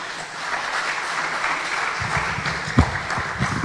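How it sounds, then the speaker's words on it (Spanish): Applause for an honoured guest engineer at a formal event of Peru's engineers' association: a steady, moderately loud wash of clapping across the room, thickening partway through with one sharper close clap. "Ingeniero Marco, lo recibimos con fuertes aplausos."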